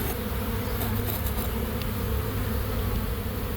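Honey bees from an overwintered hive make a dense, steady buzz that fills the air without a break, close and even in loudness, with no voices.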